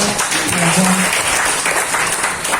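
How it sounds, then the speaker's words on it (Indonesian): A congregation applauds during an Indonesian church service, dense steady clapping throughout with some voices mixed in. "Kasih tepuk buat Tuhan kita."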